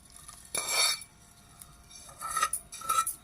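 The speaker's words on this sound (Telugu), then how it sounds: "నూనె చల్లారింది పోపు అంతా చల్లారింది ఇది కూడా ఇందులో మిక్స్ చేసుకోవాలి" Cooled tempering oil is stirred into a homemade pickle with a spoon. A few brief bursts of clinking and scraping against the container sit between quiet pauses, close and fairly soft.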